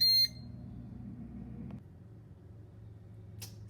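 A Ninja air fryer, paused partway through cooking chicken wings at 325, gives a short bright electronic beep at the start over a low steady fan hum, then the hum drops and a faint single click follows later.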